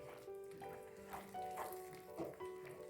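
Beetroot halva is stirred in a hot pan, giving soft sizzling and scraping strokes in an irregular rhythm, close and fairly quiet.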